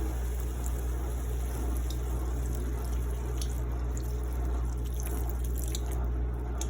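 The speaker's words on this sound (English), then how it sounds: "you're going to take it and you're going to pour it in here" Liquid pours steadily into a cooking pot of shepherd's pie filling on a home stove, a continuous watery stream with faint drips over a low constant hum.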